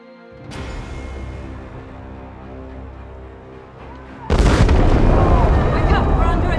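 A big blast rips through during a ship attack in Elder Scrolls Online, the fog-bound ship grappled by raiders, bursting suddenly and loudly after a sustained musical drone and leaving a dense, crackling roar.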